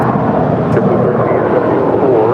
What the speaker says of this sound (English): the next departure that we're looking at right now is Japan Airlines Flight 6721, departing to Tokyo Narita